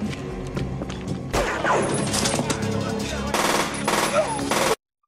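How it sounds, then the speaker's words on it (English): Rapid gunfire in an action shootout from the 1991 film Double Impact, with machine-gun bursts and single shots mixed with crashes and impacts, loud and dense until it cuts off abruptly near the end. "They get into a big gunfight."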